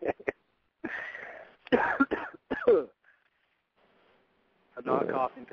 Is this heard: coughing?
yes